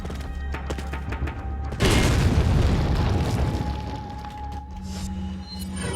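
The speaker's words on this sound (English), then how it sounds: "I wanted to throw a second grenade at them" A grenade blast in the video game Resident Evil 4, a single heavy boom near the two-second mark with a long rumbling decay, coming after faint game noises and ending in quieter background sound.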